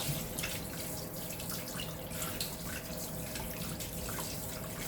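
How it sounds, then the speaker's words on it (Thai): Tap water runs steadily over raw meat being rinsed in a kitchen sink, a continuous splashing hiss from start to finish with no talk. "เราล้างน้ำผ่านแบบนี้เลยนะคะ"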